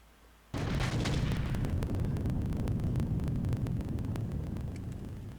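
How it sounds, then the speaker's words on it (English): A loud, booming explosion sound effect from the video game Snatcher on PlayStation bursts in suddenly and rumbles on with crackling debris for several seconds, alone. "I love that explosion sound."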